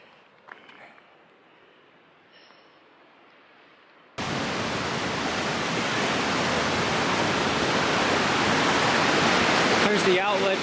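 Water rushes from a reservoir outlet in woodland along the Continental Divide Trail. After about four quiet seconds a loud, steady roar starts suddenly and continues to the end.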